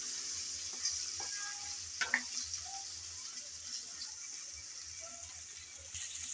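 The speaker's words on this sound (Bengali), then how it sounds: "আমি রান্না বসানোর আগে আলুটা একটু তেলের মধ্যে নেড়ে চেড়ে ভেজে নিচ্ছি।" Potato pieces fry and are stirred in hot oil, giving a soft, steady sizzle with a few light scraping clicks from the utensil; fairly quiet and close, with no talking.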